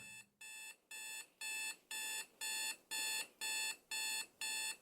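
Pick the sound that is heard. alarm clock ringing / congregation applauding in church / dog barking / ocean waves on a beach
alarm clock ringing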